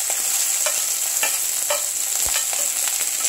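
Onions and curry leaves sauté in a pan, with a loud continuous sizzle and periodic stirring scrapes and taps by a spatula, no voices.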